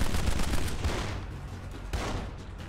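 Rapid gunfire from the video game Kane and Lynch: dense, loud, overlapping bursts that keep going without pause across the short stretch.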